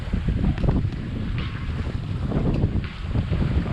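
Sailboat running down the coast off a Grenada bay with the headsail up, carrying steady, loud wind rush and buffeting across the microphone over a low water wash, continuous and unbroken throughout.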